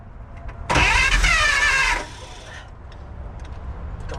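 Starter cranking a 1948 Pontiac straight-eight engine, a loud whirring crank of just over a second that fails to catch and drops back to quiet background.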